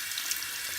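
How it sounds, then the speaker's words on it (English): Tap water runs steadily over a makeup brush at a sink, a close, even hiss of the stream with no pauses. "just kind of get it under the water"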